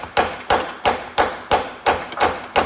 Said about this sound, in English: Just kind of tap it on there.